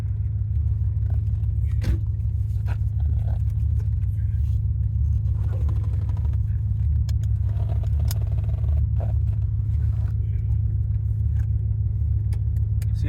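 A 1990 Corvette ZR1 with its LT5 engine and six-speed runs at a steady, deep idle rumble close by, continuous and even, with a few faint clicks and rattles on top.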